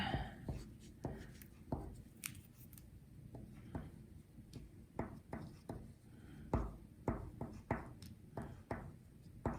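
Pen strokes scratching across paper, drawing a line in a string of short hopping loops, with quiet, close scratches coming in irregular bursts against a soft background.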